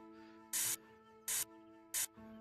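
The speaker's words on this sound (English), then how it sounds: "A little bit of spray paint red." Red spray paint hisses from a can in a VR painting game, three short sharp bursts of bright hissing separated by pauses, close and clear over a faint steady hum.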